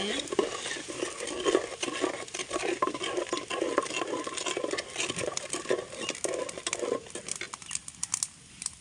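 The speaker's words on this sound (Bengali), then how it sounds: "নাড়া নাড়া দেওয়া হচ্ছে" Lentils (dal) stirred in a cooking pot, a steady scraping and pattering of the spoon against the metal with a faint sizzle underneath, continuous and fairly close.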